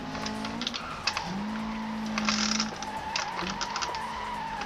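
A racing game car engine drones steadily. A quick handbrake tap sets off a tire skid that squeals for about a second mid-clip, with keyboard taps scattered throughout.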